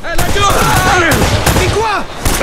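Rapid gunfire bursts in an Uncharted: Drake's Fortune firefight, repeated loud shots mixed with a voice talking over the action.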